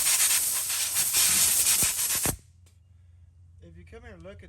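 Compressed air blasts fluid out of a soaked, shorted wiring connector, a loud steady hiss lasting a couple of seconds before cutting off abruptly, followed by quiet background and a faint voice.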